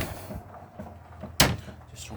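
A cupboard door at the back of a 2008 Swift Conqueror 530 caravan gives one sharp, close clack midway, set against faint background noise in the van's interior.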